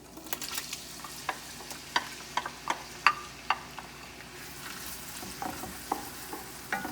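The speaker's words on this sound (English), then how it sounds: "Cook these until the onions are translucent." Onions fry in a pan alongside meatballs, sizzling softly under a series of sharp scraping and stirring clicks that come in irregular bursts.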